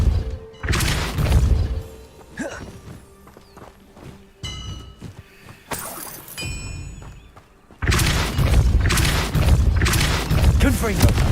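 Repulso spell casts in the video game Hogwarts Legacy on Xbox, played on hard mode: heavy thumping blasts and crashes in separate bursts, with chiming magical tones and a voice speaking.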